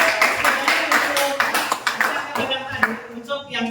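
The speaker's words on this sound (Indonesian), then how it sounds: "Mari kita tepuk tangan." Students in a classroom at an Islamic secondary school break into applause, a dense burst of many hands clapping close by, with voices chattering and calling out over the clapping throughout.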